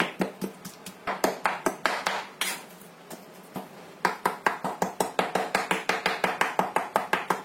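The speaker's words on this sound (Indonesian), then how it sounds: "kemudian kita cincang semuanya sampai benar-benar halus" A knife chops finely sliced ingredients on a cutting board in a rapid, steady rhythm of sharp close taps, with a brief pause midway before the fast chopping resumes.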